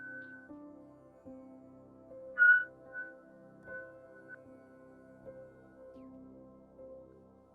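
A whistle sounded during a yoga class, soft sustained tones with a few brighter short blasts, faint and alone in a quiet room.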